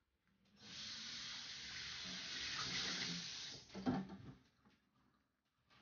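Water in a cooking pot, being heated for homemade chicken broth, hisses and bubbles as it starts to boil, rising from near silence to a steady close rush before settling and fading out.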